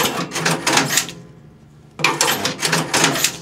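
A Mosca ROMP-2 strapping machine tightening clear embossed strap, two loud close bursts of rapid mechanical whirring and ratcheting separated by a quiet pause.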